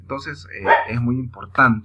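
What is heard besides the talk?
dog barking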